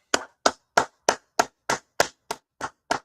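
Clapping at a gathering, about ten sharp, evenly spaced claps struck in unison at a brisk, steady rhythm, close and clear with no talking.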